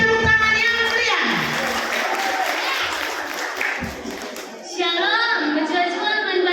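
An audience applauding at a church children's storytelling contest, a lively burst of clapping mixed with crowd noise and overlapping voices, with an amplified voice speaking over it toward the end.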